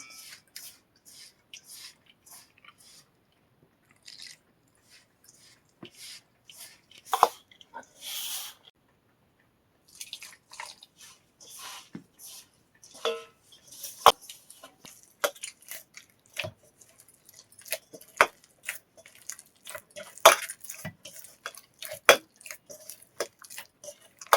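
Bread dough being kneaded by hand with milk, soft irregular squelches, wet slaps and sticky pulls close by, growing busier as the work goes on, with quiet gaps between bursts.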